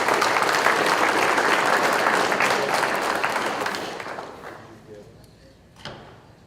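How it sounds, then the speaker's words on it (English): Applause from a crowd at a high school athlete's signing event for the Princeton track team, loud and dense at first, then thinning and fading over several seconds, with a few scattered claps near the end. "More round of applause."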